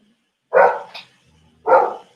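A dog gives two loud, close barks about a second apart, with a short yip between them, alone with no talk.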